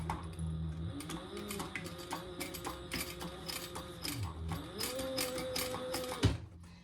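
Sewing machine running a 1/8 inch top stitch along fabric with the seam allowance turned down, a steady close mechanical whirr with rattling gear clicks that shifts speed and cuts off near the end.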